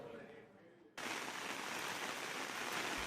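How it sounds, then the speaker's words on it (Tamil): Steady heavy rain in Tamil Nadu starts abruptly after a quieter, duller first second, then holds as a dense, even, close hiss of downpour with no breaks. "தமிழகத்தின் பல்வேறு மாவட்டங்களில் பரவலாக பெய்த மழையால் வெப்பம் தணிந்து குளிர்ச்சியான சூழல் நிலவுகிறது"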